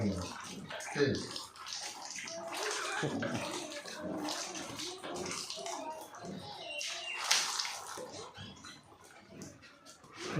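Water splashes and sloshes nearby as something is washed clean, with uneven bursts of pouring and swishing, while a voice talks faintly underneath.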